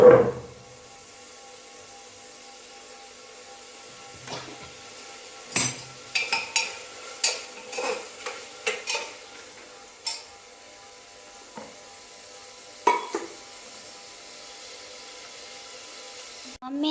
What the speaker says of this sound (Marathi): इकडे टोमॅटो ते टाकते मसाल्यामध्ये भात करायला